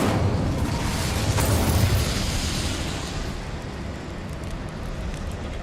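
Incendio fire spell cast in Hogwarts Legacy: a dense, roaring whoosh of flame that swells loudly over the first two seconds, then settles into a lower, broad rumble that carries on to the end.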